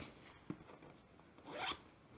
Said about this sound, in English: You've got another zipper pouch on this side.